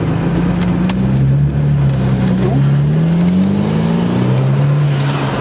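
A 2014 BMW 328i running a homemade muffler delete accelerates hard, its loud, raspy exhaust climbing steadily in pitch through the gears and staying up close throughout.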